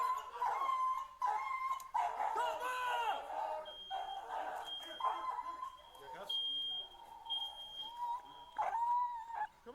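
A police dog named Rico barks and yelps in sharp, high bursts during a tense police encounter, the cries repeating irregularly throughout amid shouting voices and a steady electronic tone.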